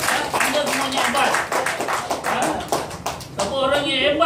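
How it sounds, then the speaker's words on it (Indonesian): An audience claps at a talk: a dense patter of many hands, fairly loud and continuous for several seconds, mixed with voices speaking. "Tepuk tangan untuk tuan-tuan."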